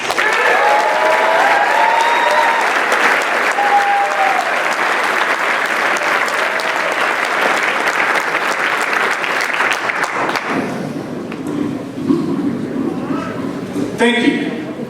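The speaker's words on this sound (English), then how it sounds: "how about one more round of applause for our graduates?" An audience claps for graduates at a ceremony, loud continuous applause for about ten seconds that then dies away into a quieter room with scattered sounds.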